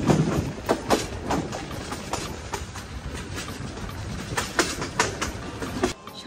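The Parabat Express rolls along the rails on a route toward Sylhet, its wheels clattering in a steady, loud clickety-clack with rhythmic bursts of rattling from the carriages, heard close without talk.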